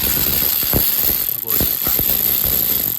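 A 13mm ratchet works a nut loose on a Mini Cooper S N14 engine during timing chain replacement, giving several sharp clicking pawl strokes up close with a steady background hum.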